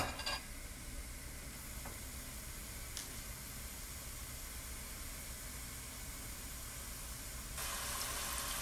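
Onions fry in olive oil with a steady, even sizzle and hiss close by. A few faint ticks sound along the way, and the frying grows slightly brighter near the end.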